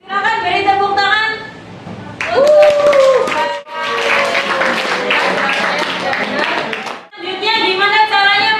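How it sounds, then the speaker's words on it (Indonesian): In a maths classroom, a burst of scattered clapping from students rises between stretches of a teacher's talk, fairly close and mixed with voices. "Silakan beri tepuk tangan."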